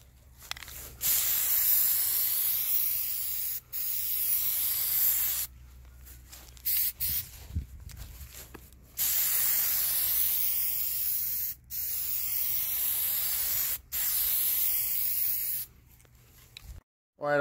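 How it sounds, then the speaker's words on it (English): A spray can lays Plasti Dip coating onto a 2015 Jeep Grand Cherokee Diesel 3.0 in long hissing bursts of a few seconds each, separated by short pauses, close and loud, with a brief low knock midway. "I'll go back and keep spraying the layers on it."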